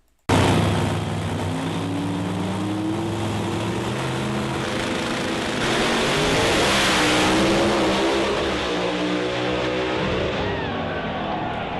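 A drag racing car on a top qualifying run: a loud, close, continuous engine roar that starts abruptly and holds steady and powerful to the end, with no talk over it.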